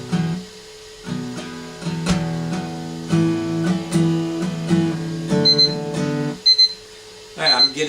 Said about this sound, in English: my egg timer's gone off